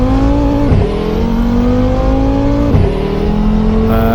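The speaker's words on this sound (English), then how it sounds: "Driving the Audi RS3." Audi RS3 engine in Assetto Corsa, driven on a UK street map: a steady, loud engine drone that climbs in pitch, drops sharply at two gear changes, then builds again, with no talking.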